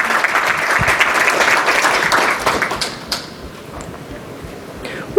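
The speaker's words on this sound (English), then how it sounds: "Clap." An audience at a national security lightning talk event claps loudly for a few seconds, then the applause thins and fades into scattered claps and room noise.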